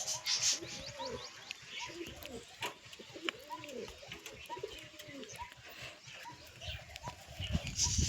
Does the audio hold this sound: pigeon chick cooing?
yes